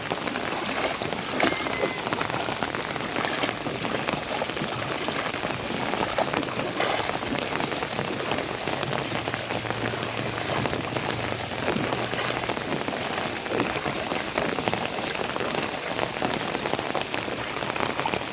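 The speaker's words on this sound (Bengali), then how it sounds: "যেভাবে বৃষ্টির পরিস্থিতি, আজকে রাত যদি এরকম বৃষ্টি হয়" Heavy rain pours steadily on surfaces along a town street, a loud, dense and unbroken hiss of drops close by with no talking throughout.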